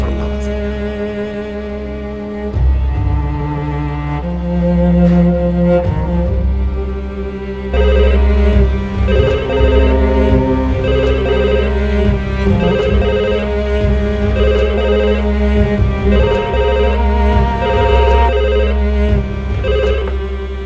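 A telephone ringing over and over in a loud, steady electronic ringtone pattern that runs on without pause, alone and with no talking.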